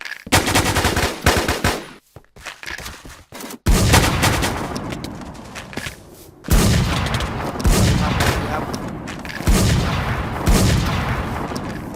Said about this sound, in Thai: ปืนเดี๋ยวเราจะใช้เป็นปืน IMI นะฮะ